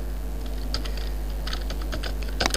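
Keys clatter on a computer keyboard as a search is entered, with irregular bursts of close, crisp clicks, a quicker flurry near the end, and a low steady hum beneath.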